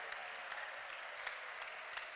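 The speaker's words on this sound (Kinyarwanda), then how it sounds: "Kubera iyo mpamvu nayo tukongeye amashyi, ababyeyi bakuvugirije impundu" Faint, distant applause at a church prayer night: a continuous wash of clapping from a congregation, steady and low in level without any voices over it.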